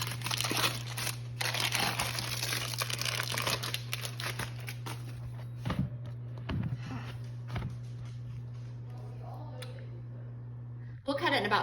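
Paper crinkles and crunches in bursts as homemade gluten-free, dairy-free bread is pulled free of parchment, with a steady low hum underneath and scattered clicks and handling noises close by.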